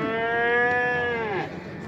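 Cattle at a livestock market in Toktogul, Kyrgyzstan: one long, loud, close moo holds steady and then dips and fades, with faint market noise behind it.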